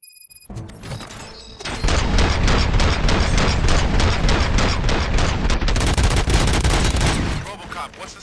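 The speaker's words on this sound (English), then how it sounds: "Gunshots? What's going on?" Sustained gunfire in the Robocop: Rogue City video game, a dense loud barrage of rapid shots and thuds that starts after a brief quiet moment, runs for several seconds and then cuts off.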